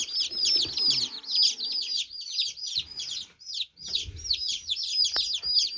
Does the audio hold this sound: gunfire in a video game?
no